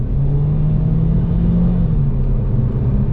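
A Nissan Juke Nismo RS engine pulls under full throttle, a steady close rumbling drone with a rising tone as the car accelerates.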